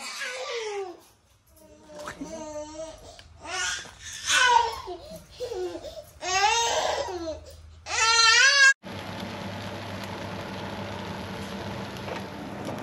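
A young child whimpers and cries in several rising, wavering bursts close by for about nine seconds, then the sound cuts to a steady background noise.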